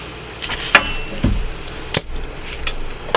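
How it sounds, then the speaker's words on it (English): Several sharp metallic strikes spaced irregularly, a hammer hitting metal while working on a Honda 400EX quad, each a short clang against quiet workshop background. "A hammer."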